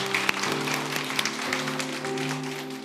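A church congregation applauds during a Sunday worship service, giving a steady wash of clapping for close to three seconds, with a sustained organ-like tonal hum underneath.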